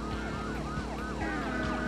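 A police car siren wails in the Driver 2 video game, its rising and falling sweeps repeating quickly and loudly over a steady engine rumble, with no talking.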